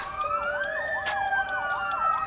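A police siren wails alone, its rising and falling tone sweeping up and down steadily in a clear, fairly close, continuous pattern.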